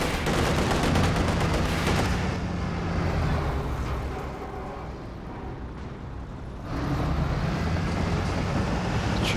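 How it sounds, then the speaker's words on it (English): Katyusha rocket barrage in the strategy game Company of Heroes 2, a dense, continuous roar of launches and explosions that eases briefly midway and then surges back, loud throughout. "Katyusha barrage,"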